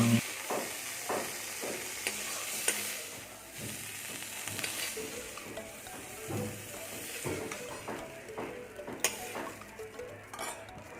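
Food frying in a pan, with a continuous sizzle and hiss under frequent scraping and tapping of a spoon against the metal; no one speaks.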